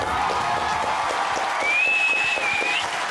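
A TV game show studio audience applauding, a steady wash of clapping at moderate loudness with a faint crowd murmur and a thin tonal whistle running through it.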